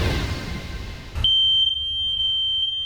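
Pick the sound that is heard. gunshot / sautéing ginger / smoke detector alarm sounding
smoke detector alarm sounding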